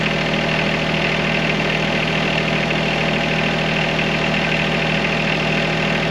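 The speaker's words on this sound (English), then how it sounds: "I can't make my voice not real time or make the sound disappear when I'm not talking with the tractor running." A John Deere 1025R compact tractor runs with a ROPS-mounted auxiliary hydraulic oil cooler fan switched on, a loud, steady close-up engine drone with a constant whirring fan hiss and no talking.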